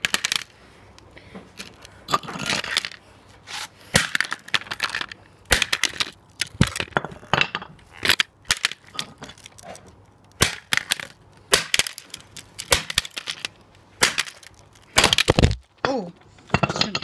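A house phone being smashed, with repeated sharp cracking, crunching and clinking impacts of breaking plastic and parts scattered irregularly over the whole stretch, loud and close, and brief voices now and then.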